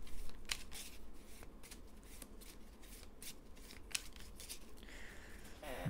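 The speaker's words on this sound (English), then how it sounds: "I'm going to shuffle this because that was literally what I had last game." A deck of board game cards shuffled by hand at close range, a run of quick riffling bursts with soft papery flutters and a final rustle, without any talk.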